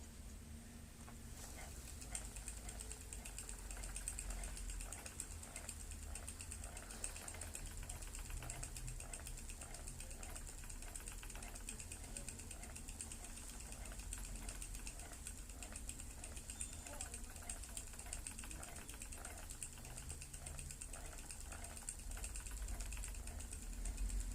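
A spinning wheel spins mohair wool with a faint, steady mechanical clicking and whirring that runs continuously at low volume, close by and without speech.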